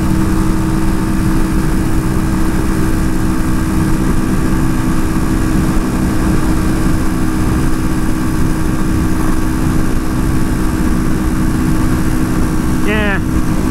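A Janus Phoenix 250 motorcycle engine droning steadily while riding through the Columbia River Gorge, loud and continuous with wind rush, and a brief chirp near the end.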